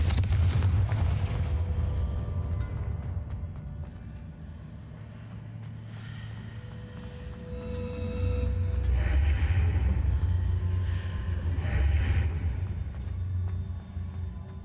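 Confringo blasting spell explosions in the Hogwarts Legacy video game, heavy booming bursts with rumbling, crackling game effects that swell and fade over a continuous loud din.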